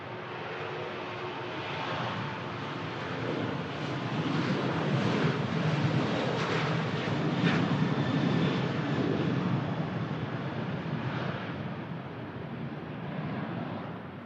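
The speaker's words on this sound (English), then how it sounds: "Ryanair on the roll." Ryanair jet on its takeoff roll at Manchester Airport, a loud sustained engine roar that builds to a peak midway and then slowly eases, with no voices over it.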